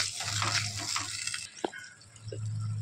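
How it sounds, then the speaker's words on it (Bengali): Water is poured into a pan of chilli chicken sauce, a close, steady splashing rush for about a second and a half, then a few drips and soft bubbling in a quieter room. "এবার এর মধ্যে আমি জল দিয়ে দেবো।"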